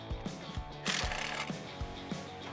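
Socket wrench removing the clutch dust cover bolts on a 1999-2004 Mustang GT, soft rhythmic clicks and knocks repeating about twice a second, with one brief harsher burst, fairly quiet and no talk.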